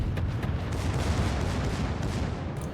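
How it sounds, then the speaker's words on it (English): Secondary guns of the German battleship Pommern fire in World of Warships, a dense, continuous rumble of overlapping booming shots that stays loud throughout. "Look at these German guns go"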